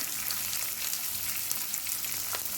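Sardine roe fries with crushed chili, turmeric and green chilies in a pan, producing a close, steady crackling sizzle with scattered pops, with no voices.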